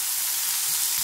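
Bitter melon stir-fries in a pan, a steady, dense hiss of sizzling oil that stays loud and even throughout, with no voices.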